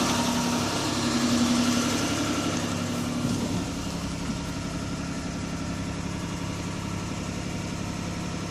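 An Isuzu Rodeo engine idles steadily at close range, a low continuous hum with a slight swell early on, no voices.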